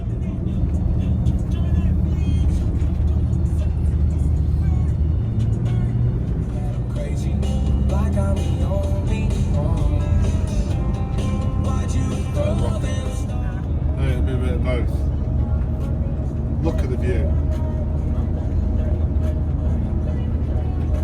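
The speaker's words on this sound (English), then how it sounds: "poor van is struggling to make these climbs right now." Van engine straining up steep mountain road climbs on a road trip, a loud, continuous low droning hum inside the vehicle, with people talking over it throughout.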